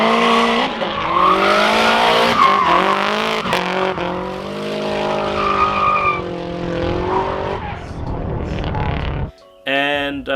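A race car drifts through a D1NZ qualifying run, engine roaring and tires squealing loudly with rising and falling pitch, overlaid by a speaking voice, then cutting off abruptly near the end.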